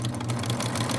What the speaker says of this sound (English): the demonic crazy sewing machine chasing this girl in another world